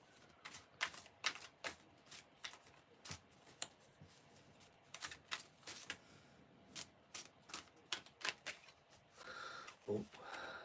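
Tarot cards are handled and picked one by one, with soft papery flicks and taps in an uneven rhythm, quiet and close.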